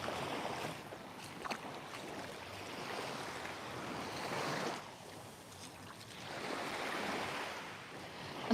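Waves wash ashore at a sea beach on the coast of Can Picafort, Mallorca, a steady surging wash that swells and recedes in slow broad cycles, close and continuous with no talk.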